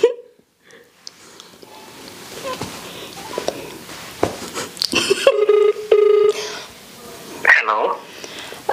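A phone call is redialed during a prank call, and a steady electronic ringing tone sounds a few times amid speech and background noise.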